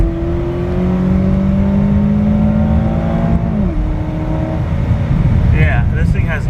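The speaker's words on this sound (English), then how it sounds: "Let's put it in manual mode, bring it down, second gear, flooring it." A Saab turbo car pulls at full throttle in second gear, its engine note climbing steadily then dipping at a shift, with a voice talking over the strained drone near the end.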